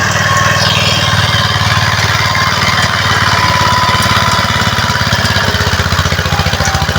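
A tractor fitted with a rotary tiller works over tree stumps in a field, its engine chugging loudly and steadily close by with a rapid, regular pulsing throb, and no talk over it.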